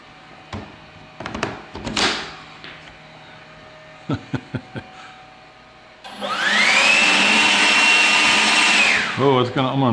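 A Kobalt 80-volt 800-cfm battery leaf blower spins up and runs with a loud, steady rushing whoosh, preceded by scattered knocks and handling clatter and brief speech nearby.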